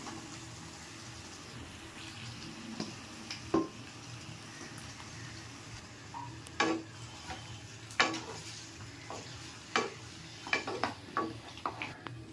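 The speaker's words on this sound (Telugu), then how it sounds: "బాగా ఫ్రై అయిపోయిన తర్వాత ఇప్పుడు నీట్గా కడుక్కున్న చికెన్ కూడా ఇందులో వేసుకుంటున్నాను." Chicken fries in a pan with ginger-garlic paste, giving a low continuous sizzle while a spoon stirs it, with intermittent sharp scrapes and clinks against the pan, close by.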